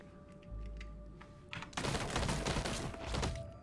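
Linear cannon in the game Caves of Qud firing, with a low thump followed by a loud, dense crackling blast that stays strong for a couple of seconds over a faint background hum.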